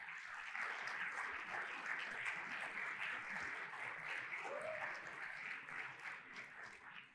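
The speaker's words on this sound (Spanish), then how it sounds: "Dame un aplauso al Señor." Church congregation applauding during a Spanish-language sermon on the resurrection, a steady, dense wash of many hands clapping that holds for about seven seconds before starting to thin.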